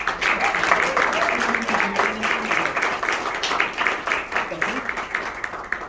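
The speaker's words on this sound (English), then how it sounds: "Let's have a big round of applause for Rick StrongBack." A live audience at an art gala claps steadily for a feats-of-strength performer, a dense patter of applause heard at moderate distance, with a voice talking faintly over it.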